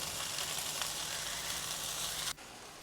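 Mezhukkupuratti stir-fry sizzles steadily in a pan on the stove, a broad hiss that runs evenly and then cuts off abruptly near the end, leaving a quieter background.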